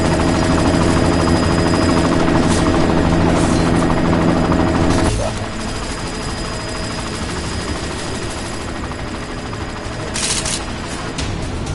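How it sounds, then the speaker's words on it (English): A helicopter in the video game Deus Ex thunders with a dense, continuous rotor and engine roar, loud and close, easing slightly midway while gunfire-like crackles and bursts mix in. "You've got to stop that chopper."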